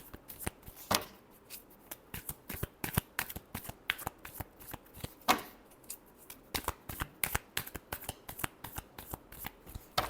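Tarot cards are shuffled close up in steady, crisp riffling flicks, a continuous run of papery snaps with a few sharper slaps of the deck.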